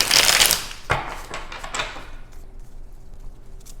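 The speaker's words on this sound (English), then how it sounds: "Nice shuffle one more time." A deck of tarot cards being shuffled by hand: a crisp riffling burst, a sharp tap, then a few softer shuffling strokes before fading to near silence.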